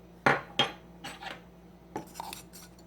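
A small baby spoon scrapes and taps against a KitchenAid coffee grinder, giving a few sharp metallic clinks followed by lighter scrapes, close up with no talking.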